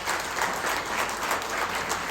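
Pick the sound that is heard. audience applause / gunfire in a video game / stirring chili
audience applause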